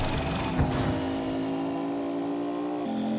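A Fortnite car engine drones steadily with a smooth, continuous revving tone that shifts pitch slightly, sounding synthetic and even throughout.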